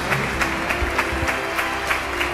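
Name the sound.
applause for Antonio's 72nd birthday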